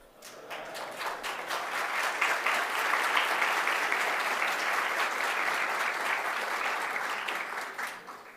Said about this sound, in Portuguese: Nem comecei a falar ainda, já essas palmas.